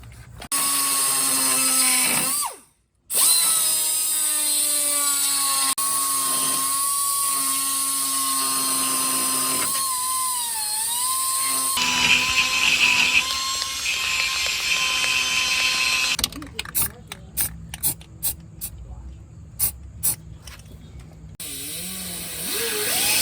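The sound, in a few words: die grinder with tungsten carbide bit cutting shock mount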